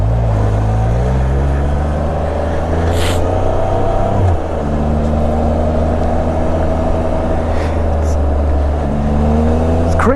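A 2016 Can-Am Spyder RT-SPE three-wheeler rides through snow, its engine giving a steady close rumble that shifts pitch with throttle, with a brief rev and a rear wheel slipping on the slick surface.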